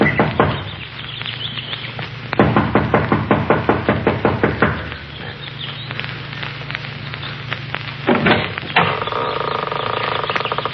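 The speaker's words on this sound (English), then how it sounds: "runs up the steps of the lodge to the front door. She knocks impatiently," Impatient knocking on the front door of a lodge comes in quick rapid bursts of sharp raps, broken by short pauses, close and fairly loud.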